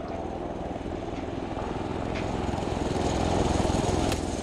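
Helicopter in a military shooter game, a steady low rotor-and-engine drone filling the clip, growing slightly louder toward the end, with no voices.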